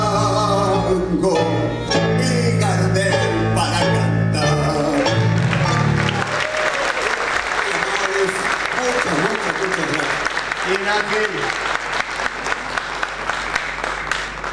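Loud, sustained audience applause breaks out as a tango song ends, dense clapping filling the room alone after the final sung and instrumental notes fade.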